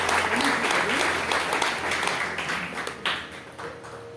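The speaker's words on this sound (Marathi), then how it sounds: "जरा एकदा जोरदार टाळ्या वाजवायला हरकत नाही." An audience at a Marathi hymn-recitation gathering breaks into loud, dense applause that rolls on steadily, then thins and fades. A few scattered claps linger as it dies away.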